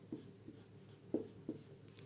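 Chalk or marker writing on a board during a physics lesson, a few short distinct taps and strokes spaced irregularly, close and fairly quiet, with no voice over them.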